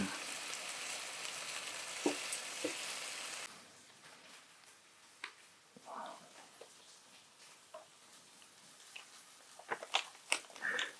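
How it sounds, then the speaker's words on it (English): Sausage fries in a pan while its fat renders out, giving a steady hiss and sizzle. The sizzle is loud at first, then drops to a quieter crackle broken by scattered pops and small clinks. "All we're doing now is rendering some of that fat out of the sausage."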